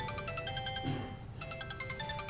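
A phone ringtone rings late at night, a repeating electronic melody of bright chiming tones in two bursts with a short gap, loud and close, with no talking over it.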